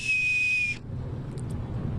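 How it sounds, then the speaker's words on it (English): A small souvenir Wienermobile whistle gives one shrill, steady toot lasting under a second, then cuts off, leaving a quiet background murmur. "get yourself a little whistle"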